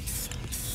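Spray paint can hissing over a mustard-coated surface in a short, steady burst, close and continuous with a brief dip partway.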